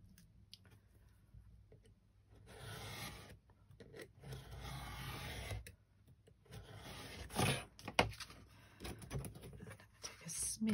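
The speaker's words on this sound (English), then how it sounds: "I'm just going to trim this down. This time I'll use a knife." A knife trims paper pages for a junk journal with intermittent rasping, scraping strokes and handling rustles, fairly faint and close, with louder bursts near the end.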